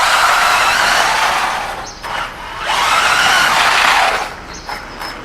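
An XLF F17 RC car on large bashing tyres races past at speed, its high electric motor whine and tyre noise swelling and fading twice as it passes close by, with no voices.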